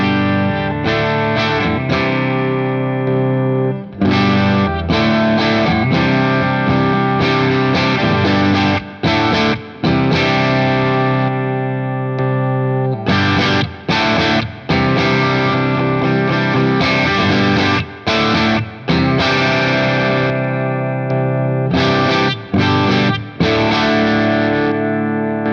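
Electric guitar played through boost and overdrive pedals at matched gain, giving a thick driven tone of sustained chords and riffs that carries loud and continuous throughout with only brief gaps between phrases.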